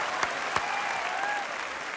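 An audience claps at a music band competition, a steady wash of applause with a couple of sharper individual claps early on and a faint whistle-like tone running through.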